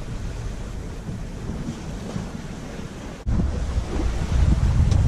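Strong wind rushing over a sailboat at sea off the Île de Ré, a continuous loud roar of air and water that jumps louder partway through and keeps building.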